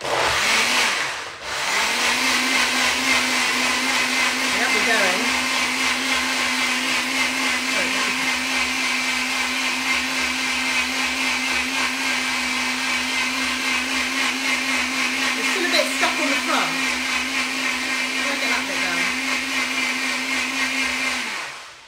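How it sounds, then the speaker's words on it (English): A Beast bullet-style blender whirs a protein shake, starting with a sharp motor surge and then holding a loud, steady high whine at close range for about twenty seconds before cutting off, with no talk. "It's a bit like a bullet blender"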